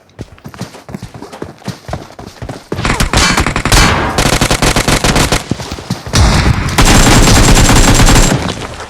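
Loud, close gunfire in the mobile battle royale game PUBG Mobile rattles out in rapid bursts and sustained automatic strings, with dense overlapping shots that build into near-continuous firing toward the end.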